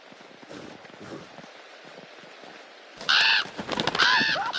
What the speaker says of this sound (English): Was that an owl, or it might have been a different bird than an owl